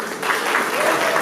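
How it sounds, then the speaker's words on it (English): Audience applause at an awards ceremony, a steady broadband wash of clapping from a crowd that continues throughout without a break. "A round of applause for Makomorero."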